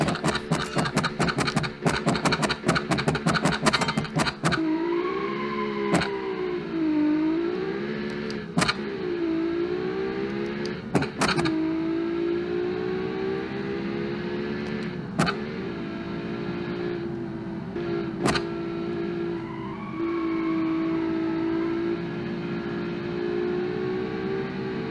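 A 400 hp convertible from the game Automation laps a racetrack, its engine droning steadily with pitch rising and falling through gear changes and corners, and with occasional sharp clicks and a rapid rattling burst at the start.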